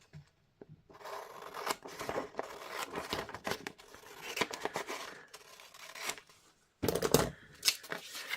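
Scissors cut down the back of a paper page in a craft project, a series of close, crisp snipping and rustling strokes in uneven bursts with brief pauses between them.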